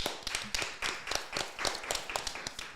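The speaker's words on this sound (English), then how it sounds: "Make some noise for her. Clap it up." Several people on a podcast couch clap in a loose, uneven burst of sharp, close hand claps over a few seconds, with no talk over them.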